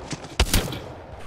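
Gunfire in the video game Apex Legends comes as two sharp, loud bursts close together over a busy background of game noise, with no talking.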